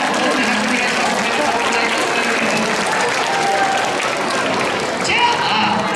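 Sustained audience applause at a sumo stable fan event in Matsubara, Osaka, a dense, steady wash of clapping that fills the whole stretch with little change in level.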